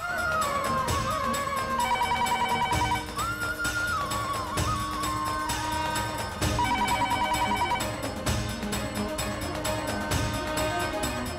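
A telephone rings steadily through the whole stretch, an electronic repeating ringtone over a dense musical score, with no answer.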